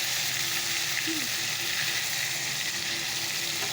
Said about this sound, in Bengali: চলো পটলগুলোকে আগে ছেড়ে দিয়ে পটলটা ভেজে তারপর মাছটা ভাজবো